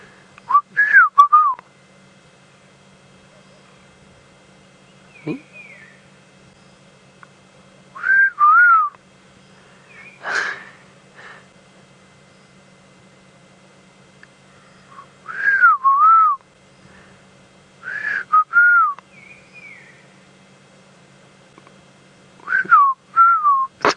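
Short, clear whistled calls of a black-crowned tchagra with a warbling downward turn, repeated in separated bursts across the clip, fairly distant against a quiet outdoor background on an evening safari drive.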